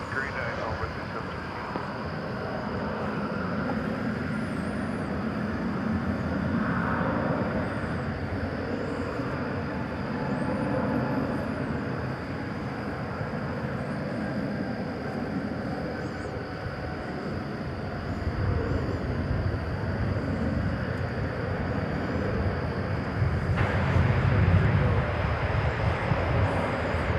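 An American airliner at DFW Airport produces a steady, broad jet roar throughout, swelling slightly toward the end, with indistinct radio voices running underneath.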